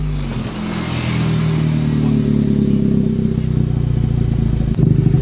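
A loud, close 2021 Honda Civic Type R with a MAP track exhaust drones and rumbles, revving unevenly with low burbling and popping between shifts, then briefly cuts out before roaring back.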